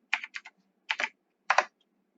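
Code being typed on a computer keyboard in a quiet room: three short bursts of crisp, close key clicks separated by brief pauses, with no voices.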